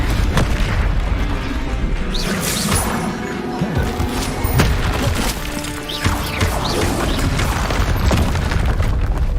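An Incendio fire spell blasts in Hogwarts Legacy amid a loud, dense mix of booming, crashing game combat effects that continue throughout.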